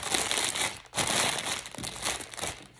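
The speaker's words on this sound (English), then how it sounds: "Sorry for the crinkling." Close, continuous crinkling of thin plastic packaging handled in the hands, a soft rustle with one brief pause partway through and no talking.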